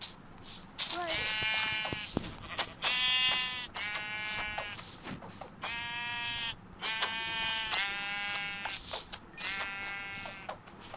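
Repeated sheep bleats from the Minecraft video game, several stylized cries in quick succession over a faint game background, with a person talking intermittently between them.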